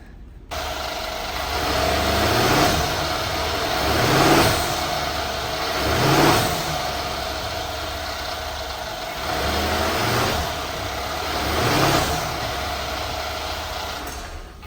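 A Mercedes S550 engine is revved repeatedly while its motor mounts are tested, each rise and fall of revs coming in about five steady swells over a constant idle hum, close by, with no talking.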